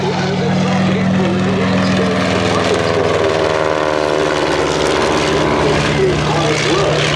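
Replica Great War aircraft fitted with modern engines fly over Duxford airfield at a Battle of Britain airshow, a loud, steady propeller drone with a shifting pitch throughout, and an announcer speaking over it.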